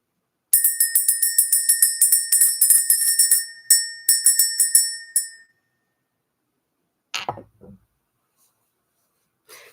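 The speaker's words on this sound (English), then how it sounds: "Let's go ahead and ring the bell." A small handheld bell is rung to clear energy, giving a rapid run of bright ringing strikes followed by a short gap and a few more rings, close and clear, with a brief murmur of voice afterward.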